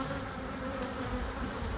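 Honey bees on the frames of a hive, a dense droning buzz that holds steady and close throughout, with no talking.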